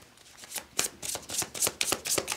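A deck of tarot cards is shuffled close up, giving a quick run of crisp riffling flutters and slaps in an irregular rhythm, with no talking.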